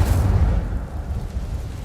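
Incendio fire spell blast from the Hogwarts Legacy game, a loud close roaring burst heaviest at the start, then a rumbling fiery rush that stays strong and slowly thins out.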